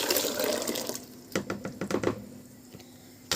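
Dry lentils tip into a cooking pot with a little oil in it, giving a rushing pour at the start, then a run of separate rattling bursts, then a last short scatter.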